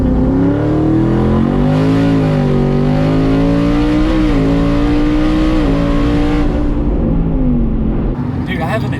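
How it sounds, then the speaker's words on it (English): Twin-turbo Ford F150 tuned to about 1,000 hp with a Midnight transmission launching hard and accelerating, a loud, sustained engine roar climbing steadily in pitch with a brief dip at a shift, heard from inside the cab. "that launch felt a little harder than the rest"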